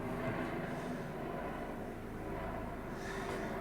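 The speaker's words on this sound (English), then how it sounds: "There's a chopper going in overhead." A helicopter flying overhead makes a continuous, droning engine rumble that stays steady and moderately loud throughout, with no talking.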